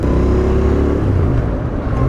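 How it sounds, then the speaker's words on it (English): A Royal Enfield Interceptor 650 parallel-twin motorcycle engine revs loudly and close, its deep throbbing exhaust rising and settling continuously for about two seconds with no talk. "I've got to say, this is a wonderful sounding engine."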